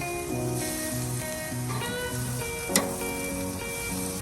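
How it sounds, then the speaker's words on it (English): Liver grilling over heat, a soft steady sizzle with one sharp click midway, close and alone, set against a faint repeating tonal hum in the background. "now that we grilled the liver a little bit, look, it's still smoking"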